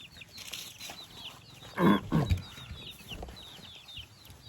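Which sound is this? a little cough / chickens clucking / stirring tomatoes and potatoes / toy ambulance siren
chickens clucking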